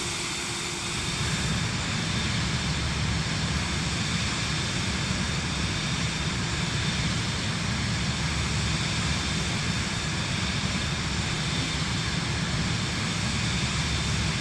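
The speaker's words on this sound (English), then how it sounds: "Why don't you buzz the plane and let everybody watching hear that sound?" Aircraft engine roar from a plane buzzing low past the viewpoint in Microsoft Flight Simulator 2024: a steady, loud, broadband drone with a faint whine, holding constant without speech.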